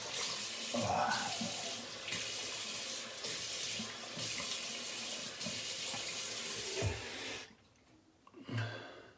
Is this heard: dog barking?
no